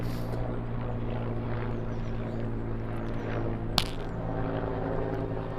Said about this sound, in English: Hopefully you can hear me over the helicopter that is straight above.